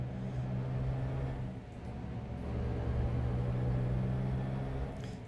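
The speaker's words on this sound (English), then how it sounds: "It's decent sound on this truck" A truck engine in American Truck Simulator drones with a low, steady rumble as it cruises, quiet and continuous with no talk.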